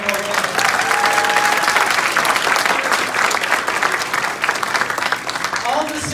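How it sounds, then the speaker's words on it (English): Loud, sustained applause from a large crowd at a 2018 Enagic Kangen Water Christmas party, following a speech, fills the space, dense clapping continuing steadily with some voices and cheers mixed in. "let's give you a round of applause. One more round."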